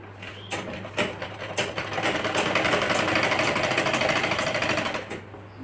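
A sewing machine runs in a fast steady mechanical rattle, stitching a straight seam along a folded edge of a small child's shirt, starting with a few short bursts before settling into continuous close-up whirring.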